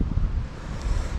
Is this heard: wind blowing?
yes